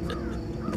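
A crow in a medieval fantasy stealth game gives a couple of harsh, raspy caws, fairly close, against a low ambient background.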